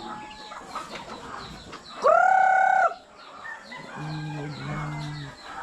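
Chickens cluck and call in a farmyard, with one loud, drawn-out squawk near the middle and low, repeated clucks toward the end.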